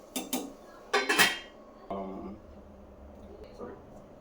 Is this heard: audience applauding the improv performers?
no